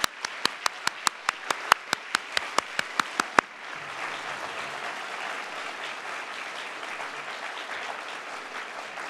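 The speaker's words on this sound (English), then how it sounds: "give our graduates and award winners a round of applause for their hard work" At a diploma graduation ceremony, an audience applauds its graduates and award winners: a run of sharp, evenly spaced near claps gives way to broad, sustained applause from the crowd, steady and moderately loud.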